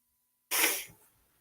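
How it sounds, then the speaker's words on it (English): A single sharp sneeze blended with a yawn bursts out suddenly after silence, a loud breathy hiss that fades into a short trailing exhale. "I was about to sneeze and yawn at the same second."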